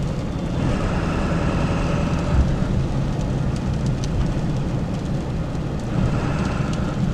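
Diesel truck fitted with a Magnaflow exhaust pulling away from a stop under added throttle, a steady loud low rumble and drone heard from inside the cab, continuous without pauses.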